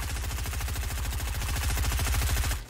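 Rapid, sustained SMG fire in Fortnite, a steady stream of shots running loud and close for nearly three seconds before cutting off abruptly.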